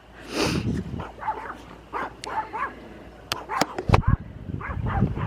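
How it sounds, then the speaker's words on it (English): Dogs bark in short bursts at a moderate distance, mixed with some yips, over a steady outdoor background. "So the dogs are barking"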